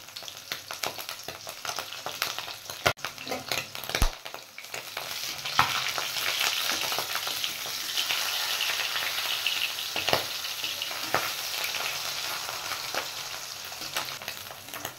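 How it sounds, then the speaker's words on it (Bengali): Crab roe frying in oil in a pan with a little salt, a steady close sizzle that swells after the first few seconds, broken by occasional sharp clicks and scrapes of stirring. "এবার এটা একটু ফ্রাই করে নেব।"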